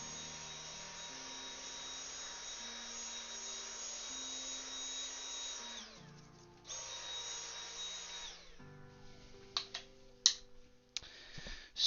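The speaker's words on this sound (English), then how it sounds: "Just had to find the Hoover bit for the Hoover" A Hoover vacuum cleaner with its attachment drones steadily and alone, cutting out and restarting partway, then giving way to scattered clicks and knocks of handling near the end.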